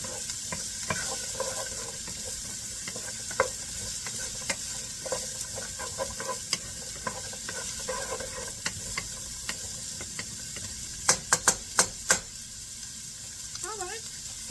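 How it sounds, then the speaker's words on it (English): Onions and garlic fry in a pan while being stirred, a constant sizzle and hiss with intermittent spoon scrapes and a few sharp clinks against the pan near the end. "Just the onions and garlic alone cooking."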